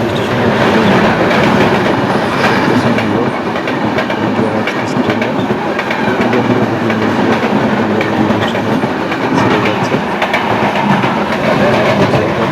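A Barendra Express passenger train runs steadily on rails with a loud, continuous rumble and rhythmic clickety-clack of wheels, heard from on board.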